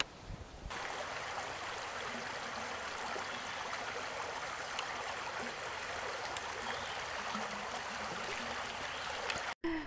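Creek water flows steadily along the Cedar Creek Trail, an even broadband rush that is soft and continuous with no talking.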